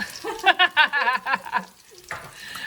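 A healthy rice substitute fries in a pan, its sizzle rising in a cluster of sharp, stirred bursts before easing into a lower, steady crackle.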